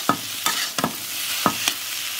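Potato samosa filling is mashed and roasted in a pan over a soft sizzle, with several sharp, uneven scrapes and knocks of a spoon against the pan close up.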